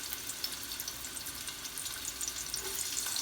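Chopped onion and garlic frying in oil, a quiet, steady crackling sizzle with small popping bursts throughout, no talk.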